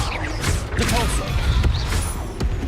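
A Depulso force spell cast in Hogwarts Legacy gives a dense, forceful burst of magical whooshes and thumps with a couple of sharp impacts, loud and continuous over busy game effects and a voice.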